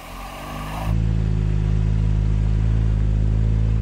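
A steady, loud engine drone from a BMW or Porsche sports car climbing slowly uphill off-road, holding an even low rumble close by after a brief lighter start, no voices.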